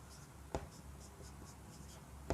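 Pen writing words on a board or paper for a reasoning lesson on word jumbling, a steady faint scratching bed with two sharper taps, no talk.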